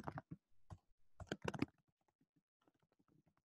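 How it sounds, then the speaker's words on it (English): Faint bursts of clicking from someone typing a message on a computer keyboard, quick clusters of keystrokes at first, then sparse, softer taps trailing off in a quiet room. "So what I do is I type this message."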